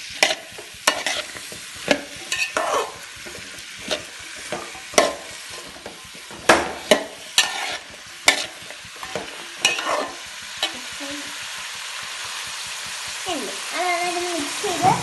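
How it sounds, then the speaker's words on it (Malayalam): A spoon stirs a homemade mixed vegetable pickle after salt water has been poured in. Close, loud, wet scraping and clanking strokes repeat in an uneven rhythm and soften toward the end. "ഞാൻ ആ ഉപ്പുവെള്ളം ഒഴിച്ചതിന് ശേഷം ഞാൻ നന്നായിട്ടൊന്ന് മിക്സ് ചെയ്ത് കൊടുക്കുകയാണ്."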